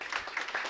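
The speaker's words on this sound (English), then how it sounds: "once again, round of applause for Jay at Wave and Circuit" Applause from a comedy club audience for a stand-up comedian, a short steady burst of many hands clapping at a moderate distance, filling the room evenly.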